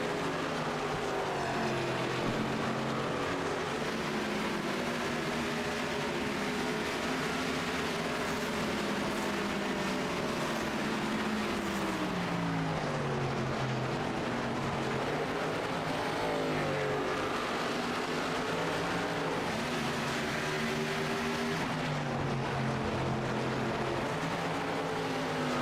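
Xfinity stock cars racing at Iowa, a dense pack of engines droning continuously with rising and falling pitch as cars pass, loud and steady throughout without talk.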